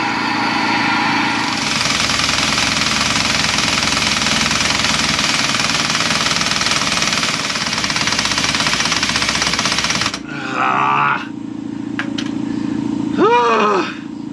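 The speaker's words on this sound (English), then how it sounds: "my little wimpy impact was not getting the job done" An impact wrench hammers continuously on a welded-on Dana 60 pinion yoke, a loud rapid rattling buzz lasting about ten seconds, then it stops and brief clanks and squeaks follow nearby.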